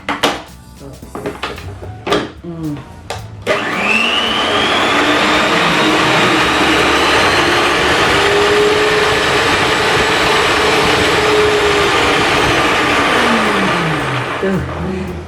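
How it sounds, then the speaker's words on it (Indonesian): A Miyako SM-625 stand mixer whirs into a loud, steady motor drone with a rattling knock from the bowl, starting abruptly after a few clattering handling sounds and holding close and constant until it eases near the end. "stand mixernya ini suaranya lebih bising lagi"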